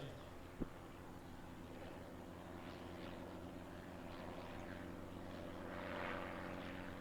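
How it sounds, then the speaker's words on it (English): Faint, steady droning of World War I propeller planes, a Sopwith Pup and a Fokker Triplane, at an air show at a distance, a low hum with layered tones that swells slightly toward the end. "from show left, we have the Sopwith Pup. And to the right, the Fokker Triplane."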